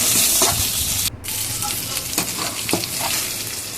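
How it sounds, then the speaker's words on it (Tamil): Turkey berries (sundakkai) sautéing in a pan, a continuous loud sizzle with occasional scraping stirs of a spoon against the pan. "நல்லா அதோட சுண்டைக்காய் கலர் சேஞ்ச் ஆகிற வரைக்கும் நல்லா வதக்கிட்டே இருக்கணும்"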